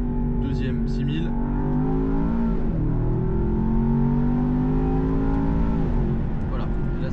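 Land Rover Defender OCTA, a 635 hp SUV, accelerating hard in second gear toward 6000 rpm: a loud, rising engine roar with a brief dip at a shift, heard from inside the cabin.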